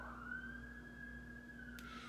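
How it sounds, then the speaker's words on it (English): A wailing emergency siren sweeps slowly up and down, sounding distant and steady, with a constant low hum underneath. "They just be putting the sirens on so they could go through the red lights."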